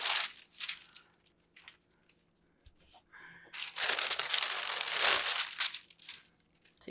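Parchment paper crinkles and crunches in close, irregular bursts as cut-out sugar cookie dough is handled and flipped, with quiet gaps between and a longer loud rustle midway.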